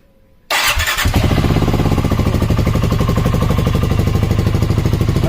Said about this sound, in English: Exhaust back on, with the 8 little holes drilled out the baffle plate